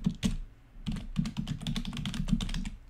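Fingers type an email address on a computer keyboard, making a close, quick run of clacking keystrokes with a brief pause near the start, and no voices.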